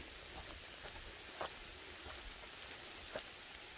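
Rain falls steadily on a road trip to haunted places, a faint, soft continuous hiss with a couple of slightly louder drop taps scattered through.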